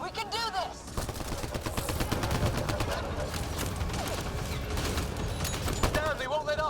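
Rapid gunfire in the video game Mass Effect Andromeda, sustained bursts of loud close shots and chattering automatic fire, with voices calling out over the firefight.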